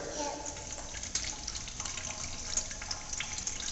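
A young child plays with water at a playground, producing a continuous splashing, trickling wash with small irregular spatters, fairly close and moderately quiet.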